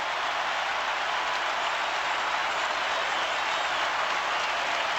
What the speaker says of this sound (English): Listen to them cheer.